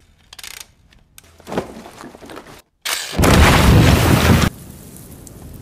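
A blast breaking through a rock wall deep inside a mine tunnel, heard as a few scattered thuds, then a short silence and a sudden loud roaring burst that rumbles for over a second before dropping to a low hiss.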